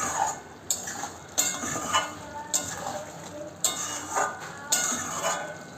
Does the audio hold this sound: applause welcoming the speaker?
no